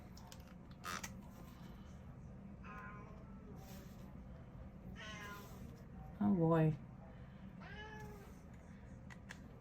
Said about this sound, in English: You hear my kitty cat